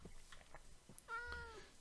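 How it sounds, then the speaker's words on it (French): A Minecraft cat gives a single clear, close meow with a rising then falling tone, heard alone over faint background sounds. "Et les chats. Les chats."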